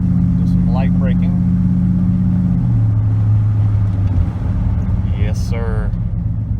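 A GMT400 pickup truck rolls along at about 40 mph under light braking, its engine drone steady and close before the pitch steps down as it slows, with brief speech in the cab over the hum.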